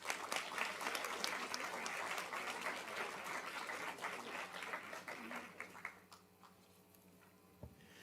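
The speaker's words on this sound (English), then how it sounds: "let's give them a round of applause." Attendees at a school district governing board meeting give a round of applause, a faint but steady clapping that thins out and stops near the end.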